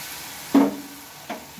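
Water poured into turmeric spice paste frying in a hot pan hisses in a sharp sizzling burst, then settles to a low simmer before a second, shorter sizzle.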